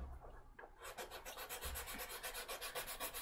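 An eraser rubs back and forth across a wood-burned drawing on wood, a quick rhythmic rasping of about a dozen short strokes, close and fairly quiet, with no talking.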